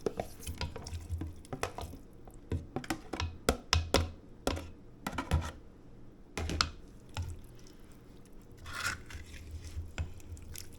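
Pieces of pork shoulder meat are dropped back into a stew pot, giving a series of soft, wet clicks, taps and scrapes close by, irregular and quiet, with a brief sizzle-like hiss near the end.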